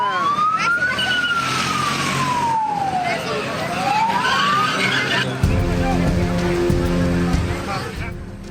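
Fire engine sirens wail in rising and falling sweeps at a burning garment factory in an industrial area, loud and close, with a deep engine rumble joining partway through.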